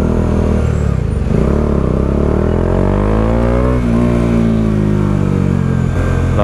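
A loud, close Kawasaki Eliminator motorcycle engine idles and revs, its pitch sliding up then settling back down, a steady throaty drone throughout.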